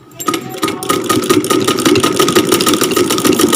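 A sewing machine stitches piping onto a shirt edge, running as a steady, close, fast mechanical whir with rapid needle chatter after a brief start, with no talking.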